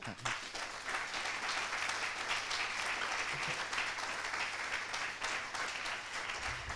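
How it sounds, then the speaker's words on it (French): Steady audience applause closing a French lecture on Taiwan's sovereignty, a dense even patter of many hands at moderate level with a faint low hum beneath, no talk. "On vous applaudit bien fort."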